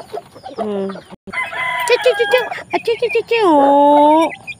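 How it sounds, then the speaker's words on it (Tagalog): Pet chickens cluck and a rooster crows loudly and close, in repeated bursts with a short gap between calls, with no other sound competing. "Ay, alagang manok."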